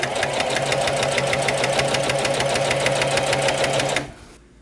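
Sewing machine stitching the center seams of a DIY winter and summer underquilt, a steady rapid mechanical chatter running close for about four seconds before stopping abruptly.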